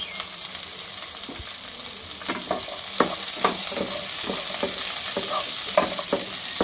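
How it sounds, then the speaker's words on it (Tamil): Small shallots, garlic and ginger frying in a pan for crab curry, a loud steady hiss broken by repeated spatula scrapes that grow busier in the second half, heard close with no speech. "வெங்காயம் போட்டுக்கோங்க சின்ன வெங்காயம் போட்டுக்கோங்க பூண்டும் இஞ்சியும் போட்டுக்கலாம்"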